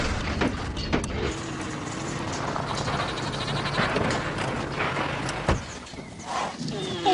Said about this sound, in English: I think the goat's freaking out.